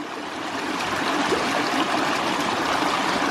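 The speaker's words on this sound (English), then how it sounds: "So now just press your valve down, and it probably will take 5 to 10 times to get it to cycle on its own." Water from a half-inch ram pump cycling in an abandoned greenhouse, a steady loud rushing and splashing flow with no breaks.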